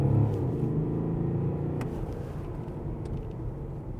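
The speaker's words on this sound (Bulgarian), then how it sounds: "2 тона и 300 и колко килограма, веднага за секунди се изстрелва." A heavy BMW 7 Series of about 2.3 tonnes accelerates hard, heard from inside as a deep, steady engine rumble that eases off slightly toward the end.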